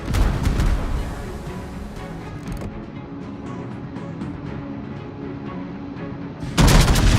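Warship guns firing in World of Warships, a dense rumbling volley of booms that fades into a sustained roar, then a sharp loud blast near the end.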